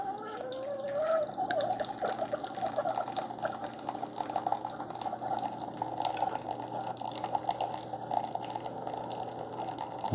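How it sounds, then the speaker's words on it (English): A new 2022 Keurig K-Cafe Essentials coffee maker brews a cup, with a quiet, continuous trickle of liquid streaming into the cup over a low machine hum, steady and close throughout. "Yep, starts brewing right away."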